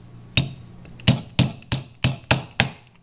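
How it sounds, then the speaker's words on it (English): A hammer's soft face tapping pins back into the bolt of a Tavor TS12 shotgun, six sharp, close knocks, the first alone and the rest in a quick, fairly even run. "reinstall your pins using the soft side of the hammer so we don't cause any damage here"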